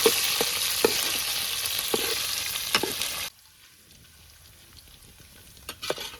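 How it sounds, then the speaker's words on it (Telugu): Chicken pieces frying in oil for chicken pickle, with a loud, bright sizzle and occasional stirring knocks that cuts off abruptly about halfway, leaving near silence with a few faint clicks. "ఇట్లా మంచిగా ఆయిల్లో చికెన్ పీసెస్ని మంచిగా ఫ్రై చేసుకోవాలి"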